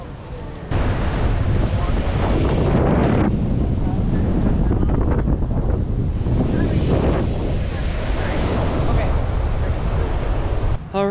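Ocean waves on the Costa Rica shore roar as continuous broadband surf, heavily buffeted by wind noise on the microphone, loud and close throughout.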